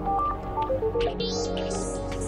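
An incoming call sets off a phone ringtone, a loud, close melodic run of electronic tones stepping up and down in pitch, playing alone without speech.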